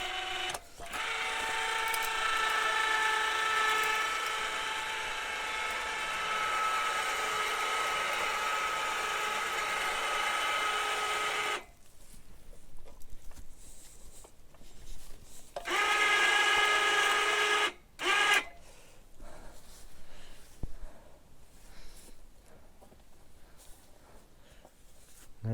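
A motorized skinning machine hoists a coyote, giving a loud steady whining hum that runs for about ten seconds, cuts out, then returns in a shorter burst among clanks and handling noises.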